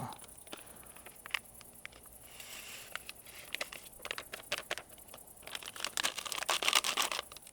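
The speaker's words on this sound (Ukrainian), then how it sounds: "Пакет номер 2 висипаємо в місочку." Dry yeast poured from a packet into a small bowl while preparing a jam-based home brew, with crinkling of the packet and a soft granular rustle that grows busier toward the end.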